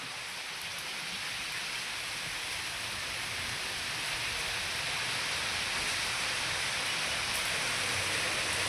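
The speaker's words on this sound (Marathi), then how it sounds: "किती जोरात पाऊस चालू झाला" Heavy rain pours steadily in a dense, continuous hiss with no pauses, loud and close throughout.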